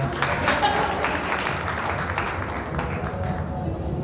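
An audience claps in a steady wash of applause that fades gently toward the end. Faint voices sit underneath the clapping.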